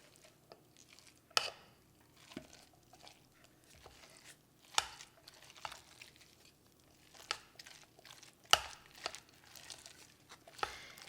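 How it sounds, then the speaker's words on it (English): Crab rangoon filling is mixed in a bowl, giving irregular soft squishing and scraping strokes with occasional sharper knocks, close and fairly quiet, with no talking. "And then we just mix it up"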